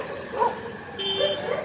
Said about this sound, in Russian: Что случилось с собачками, они гавкают.